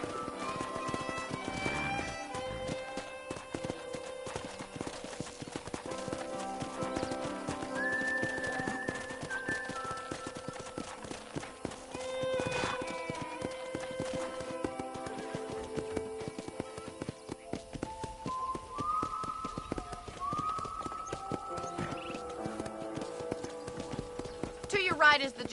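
Horse hooves clip-clop steadily through a ranch setting in the video game Red Dead Redemption, with occasional whinnies, under continuous talk and game music.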